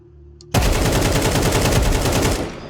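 Sustained automatic rifle fire in Counter-Strike 2 bursts in abruptly after near silence, a loud, rapid, evenly spaced stream of shots lasting about two seconds before easing off.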